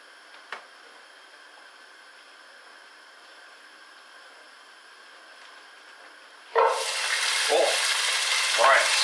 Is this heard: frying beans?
yes